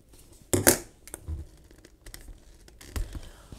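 Scissors snip a thin strip of paper during a planner-decorating session, with a couple of close, crisp cuts followed by light rustling and handling of the paper.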